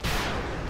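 A gunshot in the video game XCOM: Enemy Within, a single loud broadband blast right at the start that decays into a rumbling tail.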